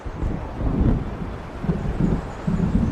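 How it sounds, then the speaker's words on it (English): Stormy ambience from the video game Alan Wake, with a low, continuous rumble of wind and distant thunder rolling in uneven surges, loud and dense without any voices. "It seems there's a storm coming."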